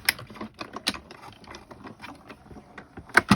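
A manual die-cutting machine is cranked to roll an embossing plate through for a paper-craft impression, giving a run of close, dry ratcheting clicks and gear rattles with a sharper burst of clicks near the end.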